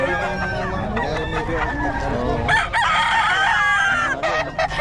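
Several gamefowl roosters crow loudly and close by, overlapping drawn-out calls with some clucking, while someone talks in the background.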